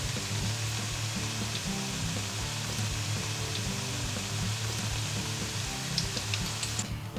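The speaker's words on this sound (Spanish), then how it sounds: "un poquito de aceite a calentar en una sartén y freímos por cada lado hasta que estén dorados" Pieces of breaded mock-fish sticks fry in hot oil in a frying pan, giving a steady, even sizzle and crackle with no talking.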